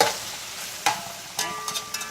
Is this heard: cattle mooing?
no